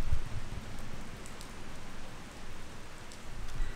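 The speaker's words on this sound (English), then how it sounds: "it's absolutely chucking it down now." Heavy rain pours down outdoors after a morning rowing paddle, a dense, steady hiss of drops drumming on surfaces that fills the whole stretch without any voices.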